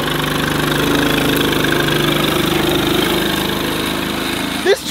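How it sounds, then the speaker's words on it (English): A farm tractor engine runs with a steady, loud, rhythmic chugging throughout, then ends in a short burst of noise at the close. "This tractor is awesome!"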